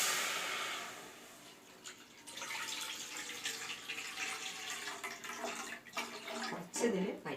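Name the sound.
pouring milk into a pan for palada payasam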